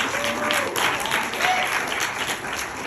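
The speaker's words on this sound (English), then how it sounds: "So give yourself a big clap here." An audience claps steadily for about three seconds, dense and continuous, fairly close, with a faint voice underneath.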